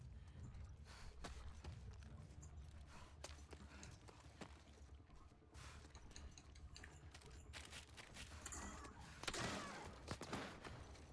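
Scattered gunshots in The Last of Us Part II, sharp isolated cracks at irregular intervals, fairly faint and mixed with in-game movement and ambient noise.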